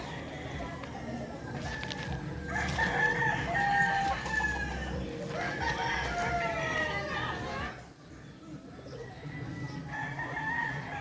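Several roosters crowing repeatedly at a poultry farm, some close and some farther off, with chickens clucking and people chattering in the background.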